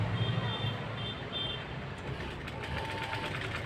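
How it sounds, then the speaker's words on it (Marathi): Steady, fairly faint road traffic drones outside an indoor blouse-sewing setting, a continuous low rumble of passing vehicles with faint mechanical whirring and no clear voices. "खूप अशी गाड्याची गर्दी असते बघा"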